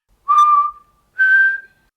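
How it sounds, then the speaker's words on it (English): A person whistles two clear, sustained notes, the second slightly higher than the first, close and loud with a short gap between them. "So if I try and whistle"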